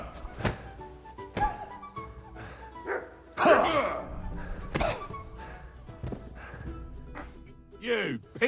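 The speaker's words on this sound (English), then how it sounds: "Bloody mutt." A dog in Kingdom Come: Deliverance II barks in sharp, separate yelps and barks spaced a second or so apart, fairly close, with some thuds and a whining, rising cry near the end.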